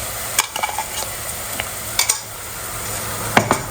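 Ground spice paste going into reddened onions in a pan, stirred with a few scraping clinks of the utensil over a soft continuous sizzle, close and alone.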